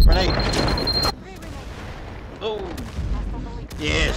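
Loud, close explosive bursts in the video game Firewall Zero Hour, consistent with thrown grenades detonating, a heavy blast at the start followed by quieter rumbles and another burst near the end, with voices talking over the action.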